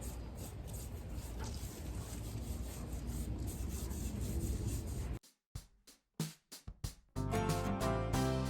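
A sock wiped with stain rubs finish onto a wooden kitchen table, giving a steady, close scrubbing friction for several seconds, then a few short separate strokes and a louder final burst of rubbing.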